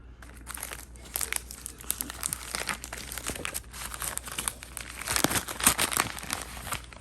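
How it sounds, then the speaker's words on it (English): Plastic wrapper being crinkled and torn off a new hickory 1-iron golf club, a steady run of close, busy crackling and tearing for several seconds that grows louder toward the end. "Take the wrapper off."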